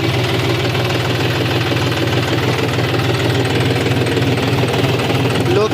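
A John Deere tractor pulling a cultivator through a garlic field runs at a steady, smooth 800 rpm in low first gear, its engine chugging loud and continuous.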